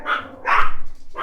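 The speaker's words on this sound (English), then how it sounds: "the neighbors are walking their dogs" Neighbors' dogs barking outside, a few quick rough barks in a short burst, fairly close and loud.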